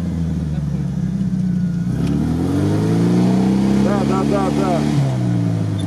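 Old GAZ-67 military jeep drives off-road on bald tyres, its engine loud and close as it rises in a long rev and then eases off, while a voice briefly breaks in over the motor.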